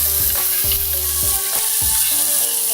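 Garlic and onions fry in a hot pan, a steady loud sizzle broken by several rhythmic bursts as the pieces are stirred, with no talking over it.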